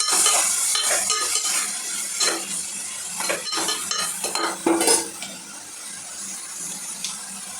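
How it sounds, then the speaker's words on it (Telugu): Onions and tomatoes cooking in a metal pan, stirred with a utensil: continuous sizzling with repeated scraping and clinks of the spoon against the pan, close and fairly loud, with no voices. "ఇక ఈ ఉల్లిపాయలు బాగా మగ్గిన తర్వాత టమోటాలు అయితే వేసుకున్నాను"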